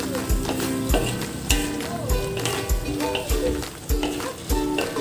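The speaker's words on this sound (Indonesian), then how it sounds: "Aduk-aduk supaya tahu dan sayur labunya dan bumbunya menyatu" Tofu, pumpkin and spices are stirred in a pan, with a spoon scraping and clacking against the pan in a steady rhythm over a low sizzle, close and fairly loud.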